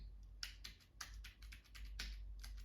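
Rapid, irregular key clicks from a Notey braille notetaker keyboard being typed on, crisp and close, a quick run of taps with short gaps, no talking.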